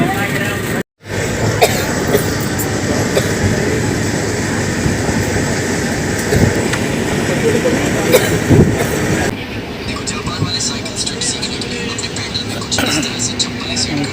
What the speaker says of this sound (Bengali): আমাদের ট্রেনের জার্নি এই শুরু হলো ট্রেন চলতেই থাকবে